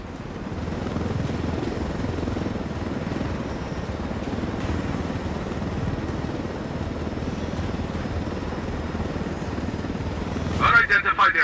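Helicopter flying in the Ghost Recon Wildlands game, a steady rotor drone sustained close and loud throughout, with a brief burst of other game noise near the end.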